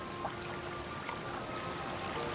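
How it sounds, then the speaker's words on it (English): A waterfall at the Algar falls pours and splashes in a steady, moderately loud rush of water, continuous with no voices. "And swim under the waterfall."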